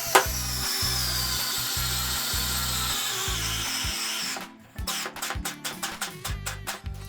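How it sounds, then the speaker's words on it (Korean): Worx WX252 4V cordless screwdriver driving a 50mm screw into wood: a steady, close motor whine with pulsing strain for about four seconds, then a short pause and a run of sharp ratcheting clicks as the clutch slips. "이 WX252로 50mm짜리까지도 문제없이 나사를 박을 수 있는지 한번 테스트를 해보겠습니다"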